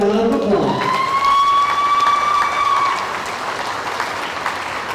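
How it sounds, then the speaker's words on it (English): The crowd claps steadily for a contestant called down at a county fair royalty pageant. A long, high cheer or whistle rides over the loud applause before the clapping eases slightly. "Give her a big round of applause."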